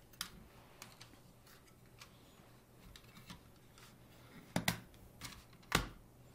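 Compact GSI Outdoors Micro Table folded up by hand, with faint light clicks and taps scattered across the clip and two sharper knocks near the end, close and quiet.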